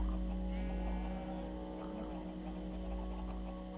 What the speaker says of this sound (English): Alright, come on, sheep.